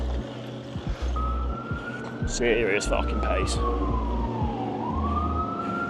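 A wailing police siren rises and falls over busy traffic noise, starting partway through and sweeping slowly in pitch, with someone speaking briefly.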